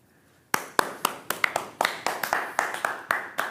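Clapping at an esports event after a painting contest, a sparse run of about a dozen distinct, fairly close claps in a loose, uneven rhythm following a quiet pause.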